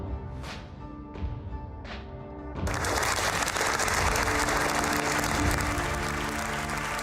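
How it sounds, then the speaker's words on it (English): Grand Prix crowd at a Formula 1 race bursting into loud, sustained cheering and applause that swells suddenly partway through and stays dense to the end, after a few earlier quieter bursts. "the crowd just went crazy"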